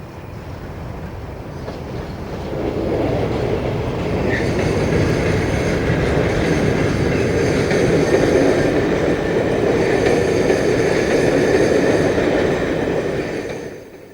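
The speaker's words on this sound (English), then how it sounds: "the Friday's only 1645 Cardiff to Manchester, here worked by 37424, complete with snowplows" Class 37 diesel locomotive 37424, fitted with snowplows, hauling the Friday 1645 Cardiff to Manchester passenger train, building from a distant rumble to a loud, steady roar of engine and wheels as it passes, then fading, with no voices.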